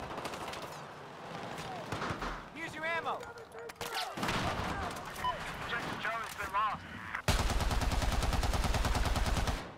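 An RPK light machine gun fires in Battlefield 4 during an Operation Locker match. Quick bursts mix with other game effects, then a sustained, loud rapid stream of shots follows near the end, and a player talks at times.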